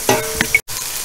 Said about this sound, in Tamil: மசாலா வந்து நல்லா வதங்கி வந்திருக்கு ஸோ எண்ணெய் பிரிஞ்சு வருது